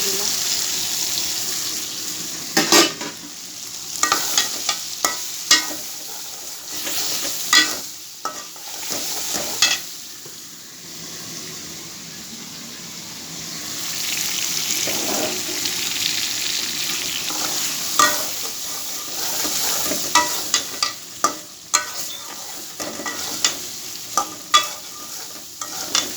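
Prawns are added to a pan with chili that has been fried down, for a Bengali home-cooked dish. A steady sizzle of frying runs throughout, broken by frequent close spoon clicks and scrapes of stirring, with occasional splashy water-like noises.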